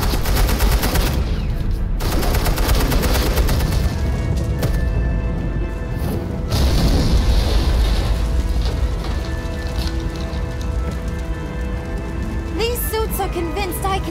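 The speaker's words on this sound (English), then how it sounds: "suppressing fire" Suppressing gunfire in the Batman: The Enemy Within game, a dense, sustained stream of automatic shots that stays loud and steady throughout, with brief breaks near the start and middle and faint voices underneath.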